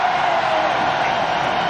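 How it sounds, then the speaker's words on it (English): Large crowd at the MotoGP French Grand Prix makes a steady, dense roar with continuous broadband noise, loud and unbroken throughout, and no distinct cheers standing out. "huge crowd here, big noise."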